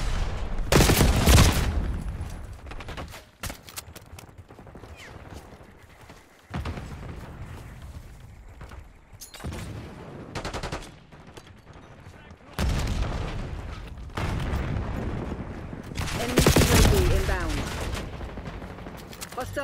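Flashbang grenade thrown during online multiplayer in Call of Duty Black Ops 6, with loud bursts of gunfire and sharp bangs in several clusters, separated by quieter gaps.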